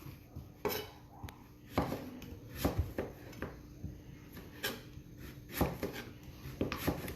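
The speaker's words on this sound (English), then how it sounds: "And you just cut your strips, however big you want." A knife slices cooked breadfruit ('ulu) into strips on a board, giving quiet, irregular taps and clacks against the board over a faint background, with no talking.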